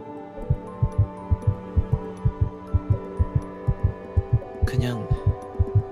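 A video game heartbeat sound effect thumps in a steady, rapid rhythm, with low pulses repeating evenly over a soft hum. A brief breathy sound breaks in near the end.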